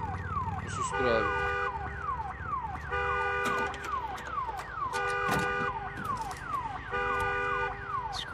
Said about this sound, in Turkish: Alarmı onlar çaldırdı